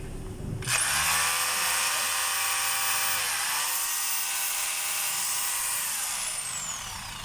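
A DeWalt D25032 rotary hammer motor, run on an old test armature, whines up to a high steady speed, then spins down slowly with its pitch falling. The sound is close and continuous.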